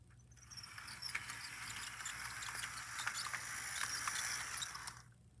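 An HO scale model steam locomotive running in reverse, a faint, steady mechanical whir with rapid ratcheting clicks, continuous for about five seconds before stopping.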